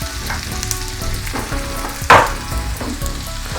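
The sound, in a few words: onions frying in a pan for shakshuka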